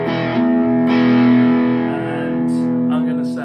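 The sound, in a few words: Chapman ML1 Pro Hybrid guitar, Pearly Gates pickup, Boss DS2 distortion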